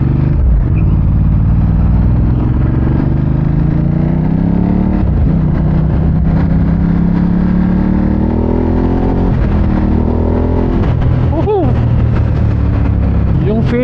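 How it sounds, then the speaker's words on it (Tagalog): Ducati Hypermotard 939 SP motorcycle engine grunting and revving at close range, with rising and falling pitch sweeps over a steady low rumble throughout. "iparinig sa'yo yung grunt niya, yung grunt ng motor."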